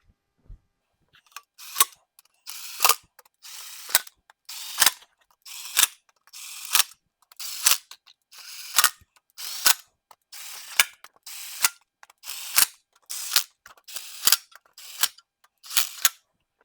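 A ratchet winds front cover bolts into a 6.0 Powerstroke engine, with repeated sharp clicking bursts in a steady back-and-forth rhythm, close and fairly loud, no talking.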